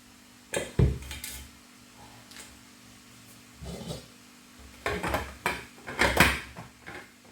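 A lid set onto a Christmas pudding basin in a steamy kitchen gives several separate clinks and knocks, sharp and close, with quiet pauses between them and no talk.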